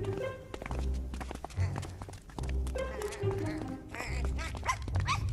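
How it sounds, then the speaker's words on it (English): A cartoon dog barks amid a tense scene in the animated series Code Lyoko, with thumping running steps and music underneath, the barks coming in short bursts at moderate loudness. "What's wrong with your dog?"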